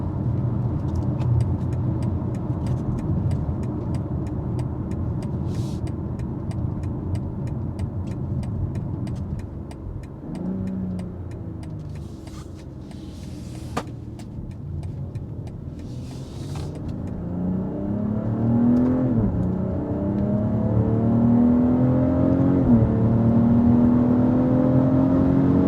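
A 2023 BMW X3 M40i engine runs with a smooth whirring drone and then revs, the note rising steadily and growing louder toward the end, heard close and without any talking.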